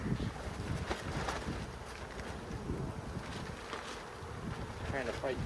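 A honey bee swarm being caught outdoors, giving a steady, dense buzzing that runs throughout, mixed with gusty wind noise and no clear voices.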